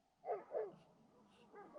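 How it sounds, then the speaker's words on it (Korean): Dogs bark at night around a remote shepherd's apple farm in a Turkish village, two sharp nearby barks followed by a lower, fainter round of barking a moment later. "주변에서 자꾸 개들이 막 짖네요"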